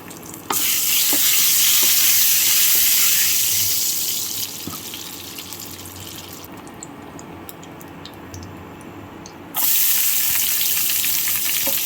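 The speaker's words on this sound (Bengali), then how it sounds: "এগুলোকে আমি লাল লাল করে ভেজে নেব।" Dried red chillies and bay leaves hit hot oil and sizzle loudly, close up, with stirring; the frying hiss eases, dips for a few seconds, then surges again, with no talking.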